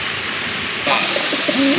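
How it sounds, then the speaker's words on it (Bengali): A pair of Bombay pigeons coo softly at close range over a constant background hiss, with a few short, throaty calls in the second half. "এক জোড়া কবুতর বোম্বাই কবুতর"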